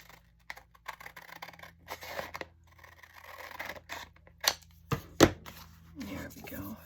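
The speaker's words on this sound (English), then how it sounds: "And then I'm just going to cut the bottom." Scissors cut through paper for a journal, a few sharp close snips standing out amid quiet rustling and handling sounds, with brief soft speech.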